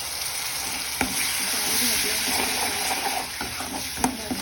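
Spinach dal masala sizzling and frying in a pan right after a spoonful of water is added, a steady close hiss with a few sharp clinks of a stirring spoon.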